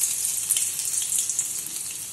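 Chopped ginger and garlic dropped into hot oil with cloves and cinnamon for egg rice give a steady, close hiss of sizzling that runs without a break for the whole stretch, with no voices.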